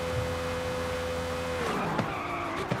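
A V12 engine screams at very high revs in the racing game Forza Horizon 5, a loud steady whine that drops in pitch mid-way with tire squeal and skidding noise following.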